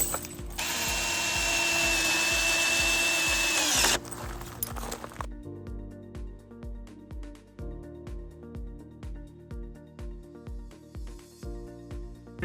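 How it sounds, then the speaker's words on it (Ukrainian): A power tool whirs as bolts are driven into a wooden gazebo frame, one sustained run followed by shorter rhythmic mechanical ticking and clunks, close and fairly loud. "Для того, щоб зібрати, просто вставляємо болти і закручуємо."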